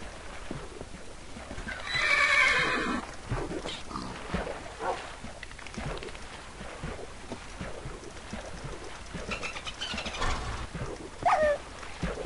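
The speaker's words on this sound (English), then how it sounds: "Why do you attack this horse?" Horse neighing in Minecraft with the Mo'Creatures mod, one loud, close whinny early on, then steady clip-clop steps and small game noises. Another shorter call comes near the end.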